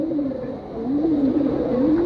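A pet pigeon cooing close by, one soft, wavering, throaty coo that rises and falls for about two seconds, with no voices.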